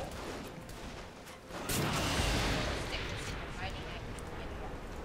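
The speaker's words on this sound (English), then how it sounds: "Explosions! Right next to it." Explosions in the video game Saints Row 3, a rumbling blast surge that swells midway and slowly decays beneath continuous game noise, with players talking over it.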